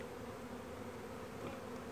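A package of honey bees being installed into a hive gives off a steady, soft, even hum of many bees buzzing together, faint and unbroken throughout.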